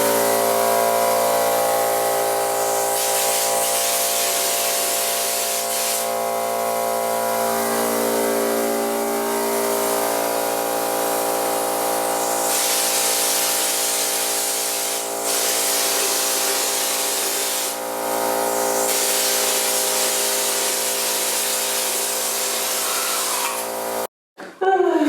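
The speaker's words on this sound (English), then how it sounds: "So I went ahead and sprayed the walls" A paint sprayer hisses and drones while spraying walls during a home wall texturing and painting renovation. The tone is loud, steady and continuous and runs for nearly the whole stretch, with slight shifts in pitch before it cuts out abruptly at the end.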